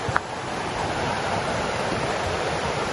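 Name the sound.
river water near Falls Creek Falls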